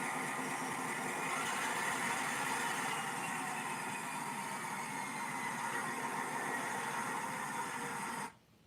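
EMD two-stroke diesel locomotive engine running after start-up, a steady broadband roar with constant hum, loud and unbroken until it cuts off abruptly at the end.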